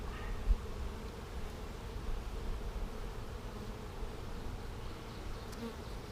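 Honey bees of a package colony hum as a steady, dense buzz from an open hive, with the low drone of many wings holding unbroken throughout at moderate level with no talking.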